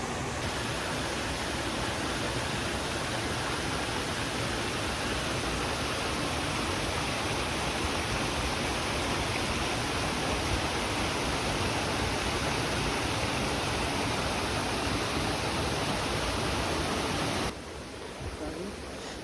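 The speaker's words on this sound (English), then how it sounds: "for a moment it started pouring with rain" Heavy rain pours down steadily on a remote mountain gold prospecting claim, a dense, constant roar that cuts off abruptly near the end, with occasional faint talk.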